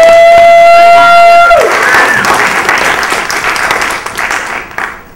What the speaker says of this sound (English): Let's do an applause.